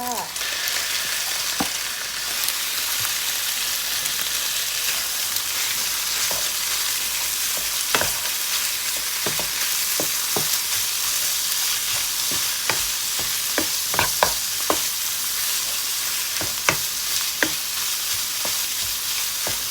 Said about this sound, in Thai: เราจะผัดหมูให้สุกก่อนนะคะ